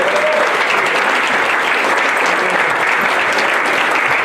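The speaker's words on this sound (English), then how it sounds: "How about a round of applause for our good friend Jim Bird for doing a great job tonight." Guests at a retirement party applaud in a steady, dense burst of clapping that stays loud and even from start to finish, with no talking over it.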